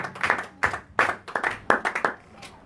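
A church congregation claps in praise, a handful of crisp, close hand claps falling in loose rhythmic clusters with short gaps between them.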